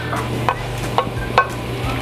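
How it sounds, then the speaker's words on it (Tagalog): Carrots go into a pot of boiling sopas soup: three distinct clunks and splashes about half a second apart over a steady bubbling simmer, close up and with no talk. "Lagay na po natin yung carrots natin."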